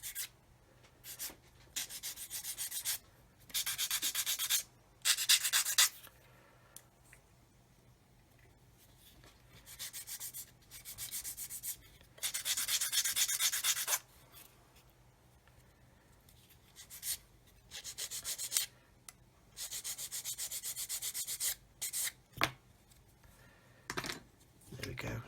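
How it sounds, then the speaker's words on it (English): Sanding a part for a Kitty Hawk 1/32 OV-10 Bronco model aircraft, bursts of close, scratchy rubbing strokes come in repeated runs separated by quiet pauses. "So I just want to sand it just to increase the contact area"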